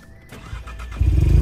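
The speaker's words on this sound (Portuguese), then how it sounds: "Vamos ver esse carro ligando." A Volkswagen Up TSI with a Stage 2 tune fires up: a brief starter crank gives way to a loud, close engine catch that settles into a deep, rumbling idle.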